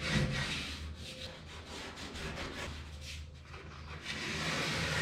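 Scotch-Brite pad scuffing grey primer on the bodywork of a 1951 Chevrolet Fleetline, a steady close, soft rasping rub in quick back-and-forth strokes with no talking.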